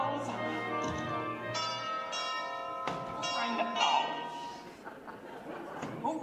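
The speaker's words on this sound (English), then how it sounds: "Who rang that bell?" A bell rings on stage during a high school production of The Wizard of Oz, several bright ringing strikes mixed with audience chuckles and speaking voices.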